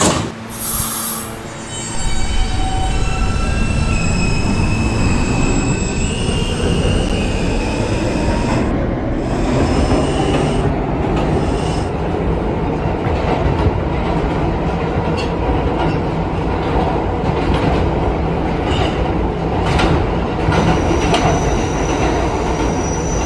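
An R160B Alstom subway train on the R local line in Roblox PTA Subway pulls away and runs steadily, with a rising motor whine, wheel squeal and rhythmic rail clatter. It stays loud and continuous throughout with no talking.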